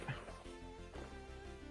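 A dog in a video game gives a short whining yip and a brief bark-like call, close and fairly quiet over a steady low background hum.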